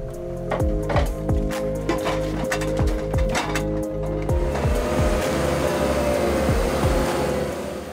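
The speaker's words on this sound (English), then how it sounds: "The forwarder follows the harvester to transport the harvested timber from the forest to the storage location." A John Deere forestry forwarder works in the forest, its engine droning steadily with repeated hydraulic and mechanical clunks and knocks in a loose rhythm, fairly close and continuous without speech.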